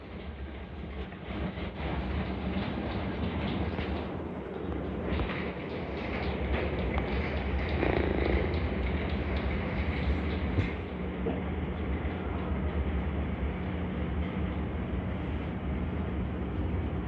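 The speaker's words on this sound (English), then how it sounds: "This is an all-station Metropolitan line train to Chesham." A London Underground Metropolitan line train running between stations, heard from on board: a loud, continuous rumble and roar with faint rail clatter, steady throughout with slight swells and no talk.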